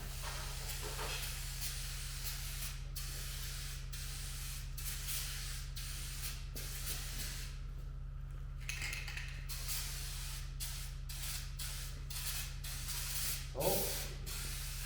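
Steady aerosol paint spraying on a 1988 Toyota Hiace, a continuous hiss with brief pauses between bursts, set against a constant low hum.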